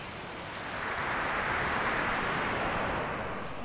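Big surf rolls in at a beach on Java's south coast at Teluk Love, Jember, making a continuous, fairly faint roar of breaking waves mixed with wind buffeting the microphone.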